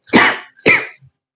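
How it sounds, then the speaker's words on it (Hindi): Two loud, close coughs in quick succession, followed by a faint short throat sound. "मुझे आज कुछ ज्यादा ही खांसी हो रहा है"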